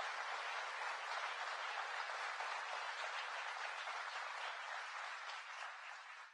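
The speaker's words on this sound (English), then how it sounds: "So please, give her a round of applause." Sustained audience applause for Governor Hochul at a public speech on job creation, a dense, steady wash of many hands clapping at moderate distance, holding evenly for several seconds before tapering slightly at the end, with no voices on top.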